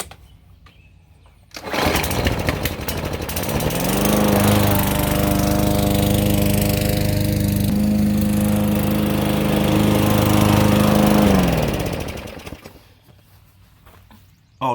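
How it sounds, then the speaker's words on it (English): A push lawn mower's engine cuts grass, starting up after a quiet moment and running loud and steady with a throaty harmonic drone for about ten seconds before cutting off. "Now I just got to cut in around everything else with the push mower."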